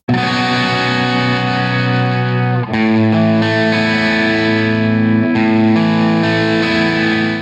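Clean electric guitar on the bridge pickup with a bright, twangy tone, chords ringing out steadily and changing twice, played alone at a moderate loudness.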